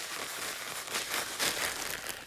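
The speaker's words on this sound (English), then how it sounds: "Seal the bag and shake it until it's evenly coated." A sealed plastic bag with raw chicken pieces and a breadcrumb coating shaken continuously, producing dense, close crinkling and rustling bursts that swell and fade with each shake.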